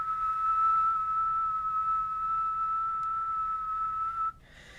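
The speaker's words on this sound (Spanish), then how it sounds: "voy a silbar." A person whistles one steady, sustained high note for about four seconds before it cuts off abruptly.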